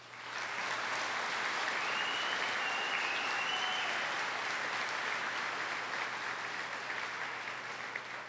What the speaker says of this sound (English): can we have one more round of applause for all the faculty, parents, friends, and everyone that has came to support this class.